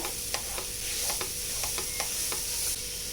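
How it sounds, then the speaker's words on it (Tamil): Chopped banana sizzles in a hot pan while a spoon scrapes and mashes it in repeated strokes, the steady frying hiss close and loud with no voices. "இதையும் சேர்த்து கொஞ்சம் நல்லா நம்ம வதக்கிக்கலாம் இதை கொஞ்சம் நல்லா மசிச்சு விட்டுருங்க"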